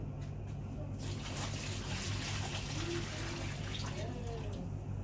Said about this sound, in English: I pour this water out.